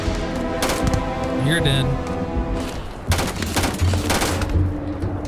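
Rapid gunfire in Starfield combat, repeated close, loud bursts of shots in clusters with mechanical whirs between, while someone talks over it.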